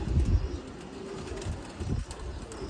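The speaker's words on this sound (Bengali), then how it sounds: "উপর থেকে নামলো মাত্র সবগুলো কবুতর" A flock of pigeons kept in Old Dhaka, just landed from above, coos nearby in low, muffled bursts, the strongest at the start and again near the end.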